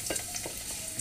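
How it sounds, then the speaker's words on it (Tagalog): Garlic and onion sauté in hot oil for an eggplant adobo, stirred with a ladle: a brief, steady sizzling hiss broken by a few soft scraping strokes, close and moderately loud, with no talking. "So, igisa na natin ang ating bawang at sibuyas."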